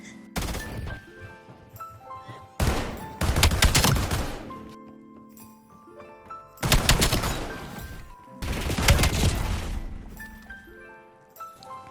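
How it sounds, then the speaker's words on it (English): Akimbo full-auto shotguns in Black Ops 7 fire in four loud sustained bursts of rapid blasts, each lasting around a second or more, separated by short gaps with quieter clinks and game effects between them. "let's go ahead and see what this Akimbo shotgun's capable of"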